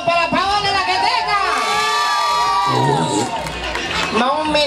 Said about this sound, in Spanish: ¿Será que hay un aplauso para Paola la que tenga?